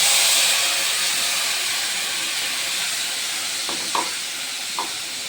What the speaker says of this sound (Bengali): মশলা ওটা থেতো করে রেখেছি, ওটা ফোড়ন দিলাম।